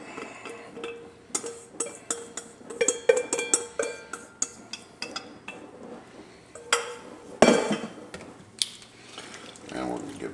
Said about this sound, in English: We need to make sure we scrape up the bottom and get everything out.